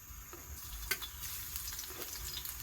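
Chopped garlic frying in hot oil for a wild greens dish of amaranth and black nightshade leaves, giving a steady close sizzle with a few sharp pops and spoon scrapes.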